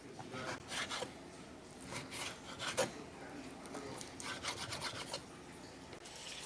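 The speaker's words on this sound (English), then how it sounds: "I'm just going to cut my bacon into the little strips" Knife slicing bacon into small strips on a board for nachos, heard as repeated soft rasping strokes at a close, quiet level with no talking.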